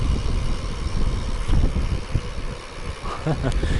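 Wind blowing on a hilltop in the open Mongolian steppe, a steady rumbling buffet across the microphone with some faint rustling and brief higher sounds near the end.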